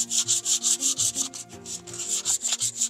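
Rhythmic back-and-forth sanding on a wooden tray, quick rasping strokes repeating steadily, close and clear with no talking.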